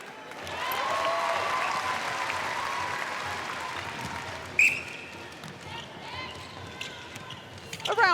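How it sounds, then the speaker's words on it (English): Applause rings out at a netball match, Australia versus Malawi, with sustained clapping from the team bench and crowd over arena noise, a sharp bounce-like hit midway, and commentators talking over it. "A round of applause from the bench."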